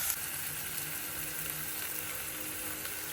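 Onions sautéing in a pan for chole masala give a steady, close sizzle and crackle of frying that holds at an even level throughout, with no voices over it.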